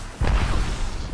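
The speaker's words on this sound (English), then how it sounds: "Look out! Grenade!" A grenade blowing up in the battle royale shooter Apex Legends: one sudden, close, deep boom that then rumbles on briefly with a broad roar.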